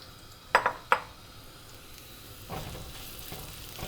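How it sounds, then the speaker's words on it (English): Carrots go into a pan for vegetable fried rice with two sharp metallic clinks, then a soft sizzle and stirring sounds build up, close and quiet, with no speech. "Next goes in our carrot."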